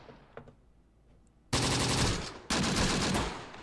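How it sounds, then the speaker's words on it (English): Gunfire in the WWII tactics game Close Combat: The Bloody First, with a quiet stretch, then two loud bursts of sustained rapid firing that start abruptly and fade slightly, the second cut off and restarted. "These guys are firing."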